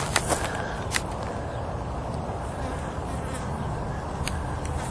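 A bee buzzes faintly at an abandoned water park in Lake Delores, California, its thin hum passing over a steady outdoor noise floor with a few brief clicks and no clear talk.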